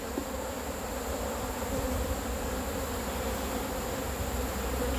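Angry honeybees swarming around an open beehive produce a dense, continuous buzzing drone that holds steady and close throughout with no pauses.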